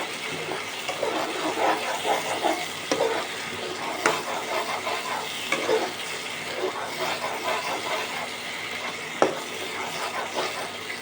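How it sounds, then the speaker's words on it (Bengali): A spiced mung and masoor lentil mixture with turmeric being stir-fried in a pan: a steady close sizzle and hiss runs throughout, broken by occasional sharp spatula taps against the pan. "দিয়ে আরও ভালো করে কষতে থাকবো"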